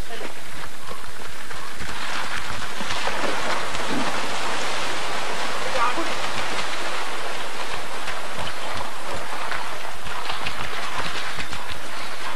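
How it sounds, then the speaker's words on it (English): Steady hiss of rain falling, constant and enveloping, with some indistinct voices faintly beneath it. "And it's raining."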